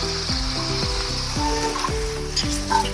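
A hot tempering with red chilli pours over dhokla and sizzles loudly and continuously, with repeated bursts of spluttering and low rumbling thumps, close by and with no voices.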